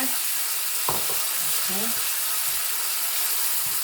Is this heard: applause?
no